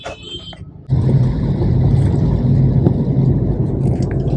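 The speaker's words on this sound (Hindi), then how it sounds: "गाड़ी लेके जा रहा हूँ" A car starts moving after a brief quiet moment, its engine rising into a steady, close rumble with road noise that carries on to the end, no one speaking.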